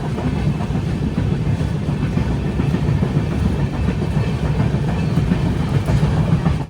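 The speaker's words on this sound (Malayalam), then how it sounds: "ട്രെയിൻ ഇപ്പോൾ ഉക്ഷി എന്നൊരു സ്റ്റേഷനിലേക്ക് ഇതാ എത്തുകയാണ്" The Konkan Kanya Express rumbles steadily toward a station on the Konkan Railway with a rhythmic clickety-clack of wheels on rails, loud and continuous, with no voices.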